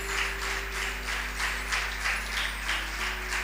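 A church congregation claps together in steady, moderately loud rhythmic applause over a low constant hum.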